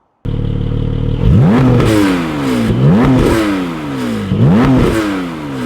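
Close Porsche 718 Spyder exhaust with valves open, revving three times after a sharp start, each rev swelling loud and raspy before dropping back to a rumbling idle.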